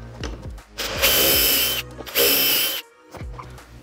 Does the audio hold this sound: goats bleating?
no